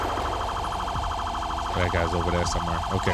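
A wailing police siren from GTA 5 cycles steadily and loudly throughout, joined midway by a harsher electronic yelp pattern, while someone speaks briefly over it.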